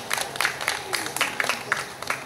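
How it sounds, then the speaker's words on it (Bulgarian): An audience applauds performers at an outdoor concert in Nezabravka park, with scattered, moderately loud claps in an uneven rhythm. "Аплодисменти за тях."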